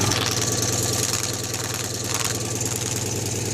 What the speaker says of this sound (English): I'm going to leave the engine running because the battery's quite flat